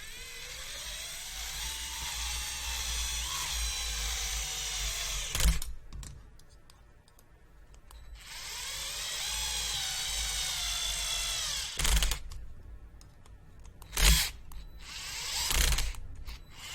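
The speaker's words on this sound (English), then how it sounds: "You have the torque set pretty low on this today on the driver" An electric screwdriver with its torque set low drives screws into a PR Racing Type-R EVO RC buggy kit, whirring in two longer runs that strain and slow, then ending in sharp clutch clicks and brief bursts.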